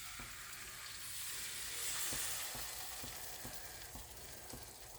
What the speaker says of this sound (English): Let's stir eggs in there.